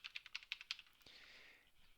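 A computer keyboard clicks in a quick burst of about eight keystrokes, close and quiet, then stops and leaves only faint room noise.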